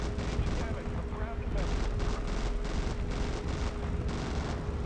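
Rapid gunfire from the video game Zombie Gunship, a dense, loud stream of machine-gun bursts and booms filling the whole stretch with little pause.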